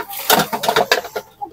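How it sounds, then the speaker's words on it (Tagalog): Dishes and plates being washed: a quick run of light clinks and clatters of crockery, close and fairly loud, fading toward the end. "Si Mika daw maghugas ng mga plato."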